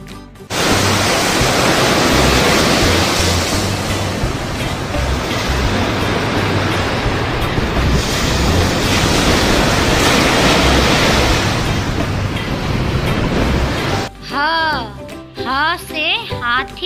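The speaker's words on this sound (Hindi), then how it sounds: "स से समुद्र" Ocean waves roll in a steady, loud wash of surf that fills most of the stretch, then cuts off near the end, where a voice briefly sings or speaks.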